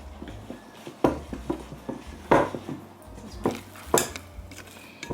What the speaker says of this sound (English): So mix it with a spoon or with a dough whisk.